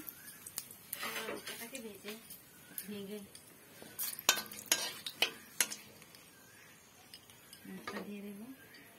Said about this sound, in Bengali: এখন এখানে একটা শুকনো লঙ্কা দেওয়া হচ্ছে, দুটো তেজপাতা।